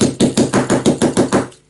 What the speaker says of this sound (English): I'm going to use my hammer for that so it's nice and tight.